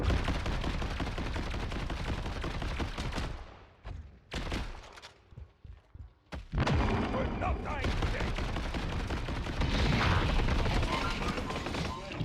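Rapid auto shotgun fire in the Deadlock video game, loud dense bursts that cut out briefly mid-clip before the shooting resumes, with scattered booms and impacts.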